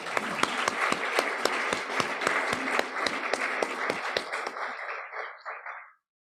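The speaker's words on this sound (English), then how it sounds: "let's have another round of applause for our" Meeting attendees clap for a clean water and hygiene initiative in rural Haiti, a moderate burst of applause with some distinct sharp claps, gradually thinning and fading out after about six seconds.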